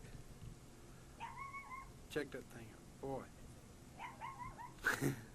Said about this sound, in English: Hear that guard dog next door?